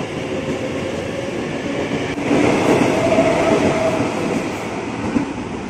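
A commuter train rumbles steadily through Bekasi station, a loud continuous rolling roar with faint wheel squeal.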